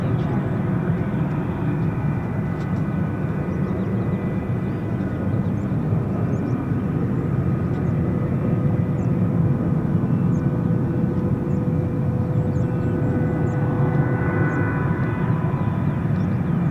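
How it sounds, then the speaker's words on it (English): A distant F-35 fighter jet engine spooling at an air force base, a steady broad roar holding throughout with a faint swelling tone near the end, heard alone from afar. "Certainly hear an F-35 spooling in the background."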